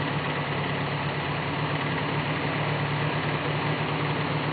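An engine on a Select-O-Speed tractor idles after a distributor cap repair, a steady, even, unbroken rumble heard up close and fairly loud throughout.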